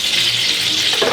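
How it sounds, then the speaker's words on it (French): A tomato frying in a very hot pan over full heat gives a loud, close, continuous hiss of sizzling oil. "Poêle, feu à fond, tomate comme ça."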